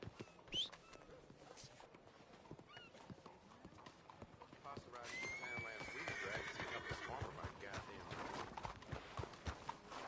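A horse in the Red Dead Redemption 2 video game gives a loud whinny near the start, followed by steady clip-clop hoofbeats and a busy outdoor town ambience, with another neigh mid-clip.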